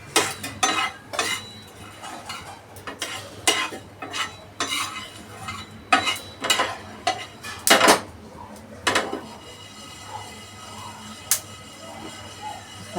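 Coriander seeds dry-roasting without oil in a pan for sambar, stirred with repeated sharp scraping and rattling clatters at an uneven rhythm, close and fairly loud, thinning out to a quieter hiss toward the end.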